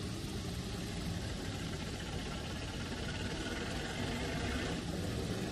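Diesel locomotive engines idle in Trainz 2019 on the C&O Hinton route, a steady, dense low rumble with constant broadband engine noise and no breaks, close by and unchanging throughout.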